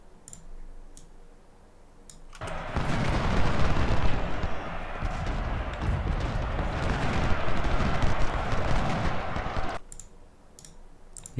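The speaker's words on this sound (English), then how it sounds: "We have cannons right here. Let's make use of them." Cannon artillery in the Civil War strategy game Ultimate General: Civil War breaks into a dense, roaring barrage that lasts several seconds, with scattered interface clicks just before and after.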